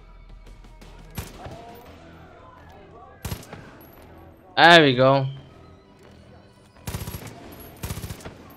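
Bursts of Far Cry 5 gunfire ring out loud and close: a few separate shots, then a dense, heavy volley around the middle and more rapid shots near the end. Someone speaks briefly between them.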